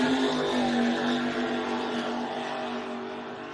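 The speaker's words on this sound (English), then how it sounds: "have a listen, ladies and gentlemen, to the two big block engines roar in 222, the Johnny Barbagallo built motors" Twin big-block engines built by Johnny Barbagallo drive a racing boat at a Lake Macquarie super sports race, giving a steady, loud droning roar that holds, then eases slightly as it moves away.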